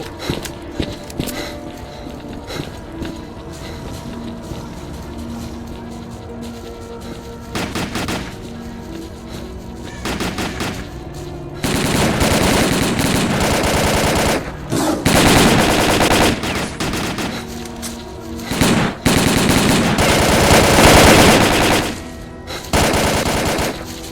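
Gunfire in the video game S.T.A.L.K.E.R.: Call of Pripyat, with rapid machine-gun bursts and single shots, sparse at first and then dense, sustained volleys in the second half, loud and close.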